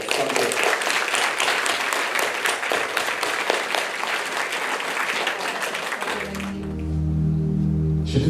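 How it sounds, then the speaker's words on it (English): A crowd gives a girl a round of applause, steady clapping from many people that runs for about six seconds before cutting off, followed by a low droning hum. "Give this girl a round of applause"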